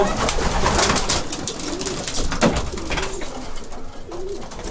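Several racing pigeons in a loft coo in low, throaty bursts amid a busy flock's rustling and chatter, the calls repeating steadily close by.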